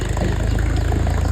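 A tractor engine chugs close and loud with a rapid, even low-pitched throb, steady over a brief moment as the tractor arrives.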